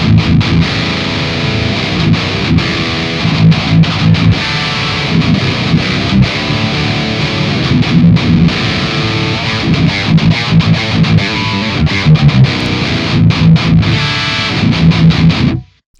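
High-gain metal electric guitar played through a ToneX capture of an Engl Invader amp gives a loud, dense, heavily distorted wall of chugging riffs, steady throughout before cutting off abruptly at the end.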